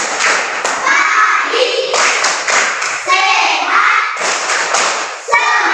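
A school class performing the 'tepuk apa kabar' clapping chant, children chanting loudly in unison with rhythmic claps and thumps, close and energetic.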